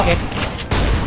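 A dense burst of shotgun fire in Minecraft, loud and close, with two rapid blasts over a continuous wash of noise and game sound.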